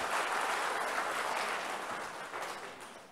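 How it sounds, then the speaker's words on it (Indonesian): A church congregation claps in a sustained round of applause that stays steady and fairly loud before tapering slightly toward the end, with no voices over it. "kita sambut dengan tepuk tangan ya"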